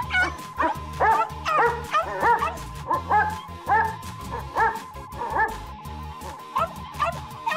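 Several dogs bark and yip in quick, excited bursts, close and loud, in a cartoon comedy sketch about a phone for dogs, with short whimpers between the barks.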